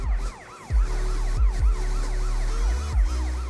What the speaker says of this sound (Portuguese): Vou ligar um pouco a sirene aqui.